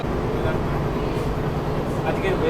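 An AC local train, West Bengal's first, on its Sealdah to Ranaghat run, stands at the Kalyani railway station platform, giving off a loud, steady, low rumble close by.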